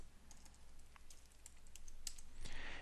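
Computer keyboard typing while a new folder is named on a Windows computer, a quick run of light, scattered key clicks, close but quiet over a steady background hum, no talking.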